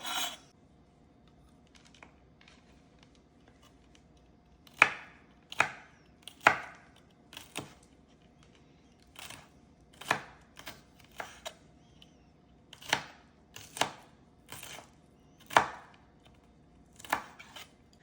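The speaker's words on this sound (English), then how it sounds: "Make sure you chop the onion. And the green chili also." Knife chopping onion and green chili on a board, sharp distinct strokes in irregular bursts and pauses, close and clear against a quiet room without talk.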